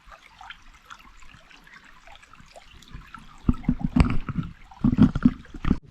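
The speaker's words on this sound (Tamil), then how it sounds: "நீங்கள் பார்த்தீங்கன்னா ஃபுல்லாக தண்ணி வருது, புரியுதா?" Clear mountain water runs through a forest near a hidden waterfall in Yelagiri, a soft continuous trickle that builds into louder splashing and gurgling bursts toward the end.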